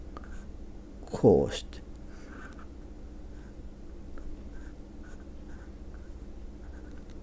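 A calligraphy brush sweeps across paper, writing Japanese cursive characters built on the foot radical. One short, soft stroke rises out of a quiet room, and a voice speaks briefly and quietly nearby.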